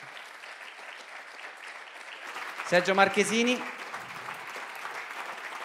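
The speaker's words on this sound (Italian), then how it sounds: "Vi chiamo sul palco con un grande applauso" Moderate audience applause welcomes guests onto the stage at a talk on mountain myths, steady clapping throughout with a voice announcing a name over it midway.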